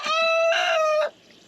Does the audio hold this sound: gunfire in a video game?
no